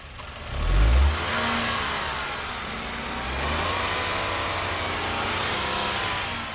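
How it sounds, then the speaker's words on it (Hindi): A Tata Punch CNG's three-cylinder petrol engine starts with a brief low rev surge, then settles into a steady, close idle that runs on unbroken to the end. "मैं एक बार इसके इंजन की वाइब्रेशन वगैरह आपको सुना देता हूं, क्योंकि एक 3 सिलेंडर पेट्रोल इंजन है।"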